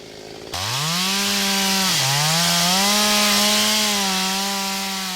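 A chainsaw starts up and runs steadily at high revs felling a Geumgang pine in a quiet Korean forest, its whine dipping briefly under load before rising again, loud and close.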